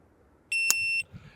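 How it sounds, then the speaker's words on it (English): A shot timer sounds a single sharp electronic beep of about half a second during a pistol drill, loud and clear against a quiet room. "Waiting for the beep."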